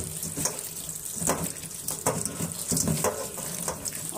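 Water runs steadily from a kitchen tap over boiled food as it is rinsed in a sink, a continuous close splashing with small shifts as the food is moved under the stream.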